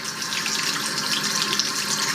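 Water pours steadily from a waterfall faucet with color-changing lights, a close, continuous rushing splash into the sink with no voices.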